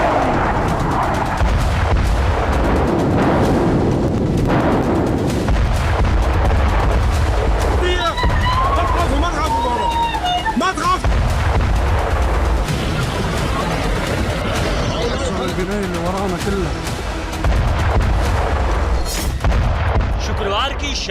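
Israeli bombs exploding on the Hezbollah headquarters in Beirut, heavy booms and rumbling blasts in news footage, loud and repeated over about twenty seconds, with a voice talking over parts of it.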